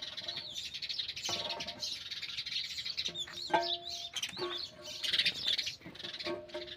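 Sparrows chirp near their nest in a village cattle shed, a busy run of high, quick tweets and calls repeating throughout, fairly close and steady, with no talk.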